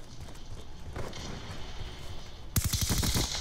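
Weapon fire in a first-person shooter map: a dull thud early on, then a loud rapid burst of sharp shots near the end over steady game ambience.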